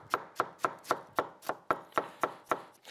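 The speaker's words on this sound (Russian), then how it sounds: "Вот у меня есть кусочек свежей капусты. Я сейчас его нашинкую, как мы обычно шинкуем капусту." Fresh cabbage shredded with a kitchen knife on a board: ten crisp, evenly spaced chopping strokes, close and fairly loud, with no talk.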